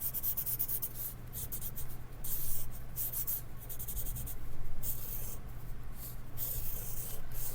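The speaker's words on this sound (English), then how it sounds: "cross out what I don't want with my pencil" Pencil scratching and scribbling across paper to black out words for blackout poetry, a steady dense rubbing texture with brief pauses, close and alone.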